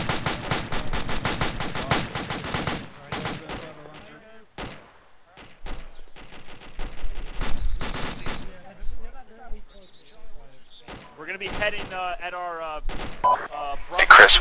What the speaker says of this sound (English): got AK fire to the south.